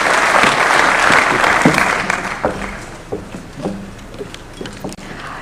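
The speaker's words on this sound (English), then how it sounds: "Let's give them a clap as they're coming." Audience applause greeting speakers as they arrive at a State House youth employment event in Kenya, a dense burst of clapping that thins out into scattered claps over a few seconds.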